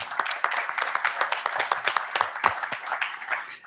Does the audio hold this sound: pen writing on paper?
no